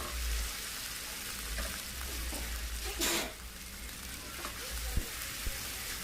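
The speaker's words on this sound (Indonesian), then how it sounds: "kita aduk-aduk dulu sebentar biar bumbunya meresap ke dalam daging ayam" A steady sizzle fills the clip as fried chicken is stirred in a pan of cooked spice paste, with occasional soft scrapes and light clicks of the utensil.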